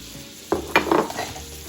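Chopped pecans are tossed into a hot pan. After a quiet start they hit with a sudden burst of sizzling and scattering, then settle into a softer crackle.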